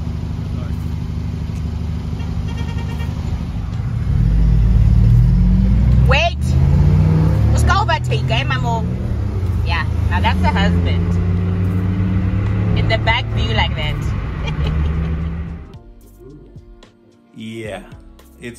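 Car interior on a road trip, steady road and engine rumble swelling as the vehicle passes another, with people talking over it before the noise drops away near the end.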